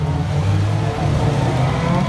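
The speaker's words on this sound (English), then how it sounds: "as these cars start to roll around the raceway" UK modified race cars roll around the raceway at MWA Peterborough, a loud, low, steady engine rumble from several cars close by, with a faint voice beneath it.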